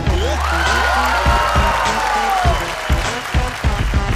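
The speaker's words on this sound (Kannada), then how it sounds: "ಸೊ ಸೀರಿಯಲ್ ಲೋಕದ ಸರದಾರನಿಗೆ ಮತ್ತೊಮ್ಮೆ ಚಪ್ಪಾಳೆ" Studio audience applause at a television show, steady loud clapping from a crowd that swells and holds for about four seconds, with brief music-like tones and possible voices mixed in underneath.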